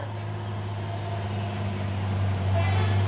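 A trailer truck grinding up a steep hill road, a loud steady low engine drone that swells slightly toward the end, with other traffic nearby.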